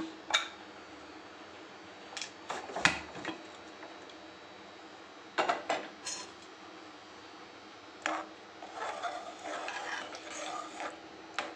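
A metal pot lid clinks and clatters in several short, quiet knocks spread out over time as it is lifted off cooked moong dal for pasi paruppu kulambu, against a faint steady background.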